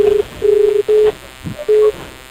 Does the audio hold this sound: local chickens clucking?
no